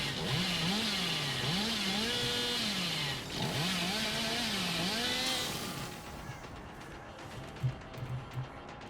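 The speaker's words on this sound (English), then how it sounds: "I overheated the chainsaw by accident." The Hillbilly's chainsaw in Dead by Daylight revs with a loud warbling engine whine for about six seconds, then cuts out, leaving faint clicks and thumps.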